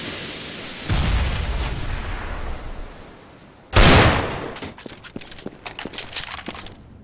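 A grenade explodes in a video game, one loud close blast whose roar fades over a few seconds, preceded by an earlier rumbling burst and followed by scattered sharp cracks and pops of gunfire.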